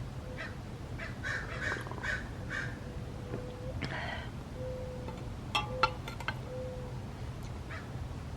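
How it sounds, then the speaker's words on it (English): Crows caw in a scattered series of calls, several birds trading short harsh cries at moderate distance over a steady low background hum. "The birds, the crows are practicing crying."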